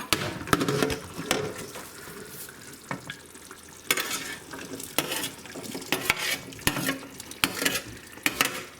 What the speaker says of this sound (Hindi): अब हम ग्रीन ओनियन डालेंगे इसमें।